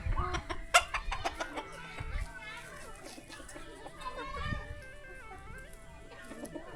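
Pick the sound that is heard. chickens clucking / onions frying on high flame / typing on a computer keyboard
chickens clucking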